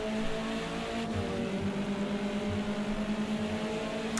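Touring race cars, BMW among them, running at the Snetterton circuit: a steady engine drone with a sustained tonal hum holds throughout at moderate level, without voices.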